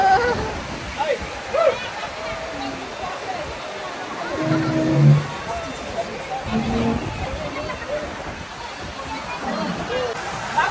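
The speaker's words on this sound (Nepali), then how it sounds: "पानी मुसलधारे पानी पर्यो" A heavy downpour at an eco village gathering makes a steady, dense roar of rain throughout while several people talk and chatter close by.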